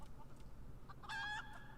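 Chicken clucking in the Final Fantasy XIV video game, a brief, fairly faint squawk rising over low game background ambience.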